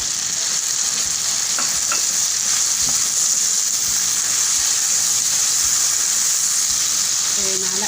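Hot sauce and soy sauce stir-frying in a pan with garlic, a dense, steady sizzle and hiss throughout, punctuated by faint utensil scrapes and knocks.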